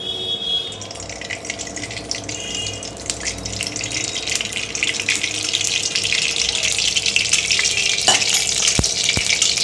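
Potato pieces frying in mustard oil in a wok give a loud, continuous close-up sizzle that builds steadily in intensity, with a few sharp clicks near the end and no talking.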